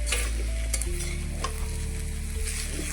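Food frying in a pan sizzles steadily while being stirred, with scraping and clinking strokes over the hiss, close and alone with no talking.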